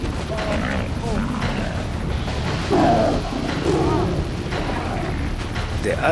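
Lions roaring and snarling as they attack, growls and low roars that rise in loudness midway, mixed with a voice talking and thumping noise.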